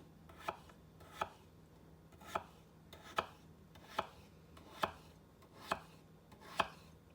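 A knife chops a potato into even pieces on a board, with nine crisp, evenly spaced cuts close by in a quiet room and no speech.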